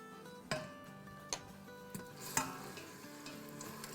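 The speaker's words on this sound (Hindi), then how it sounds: "थर्टी सेकेंड तक ही फ्राई करना है।" Ginger, garlic and green chili paste fries in a pot with a steady soft sizzle, punctuated by a few sharp clicks and knocks of stirring at intervals.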